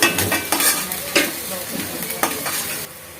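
Chopped green chillies fry in a pan for restaurant-style chicken fry, hot oil sizzling loudly and close, with several stirring scrapes and clatters of a utensil against the pan.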